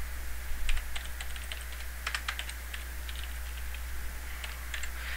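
Computer-keyboard typing while writing Visual Basic browser code, a steady run of quick, light key clicks in irregular bursts with short pauses, close and fairly quiet over a faint background hum.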